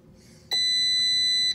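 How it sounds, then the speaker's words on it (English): A Beseler 45 darkroom enlarger timer gives a single clear, high electronic beep lasting about a second at the end of an exposure, against a quiet room. "it actually makes a beeping noise when the exposure is over"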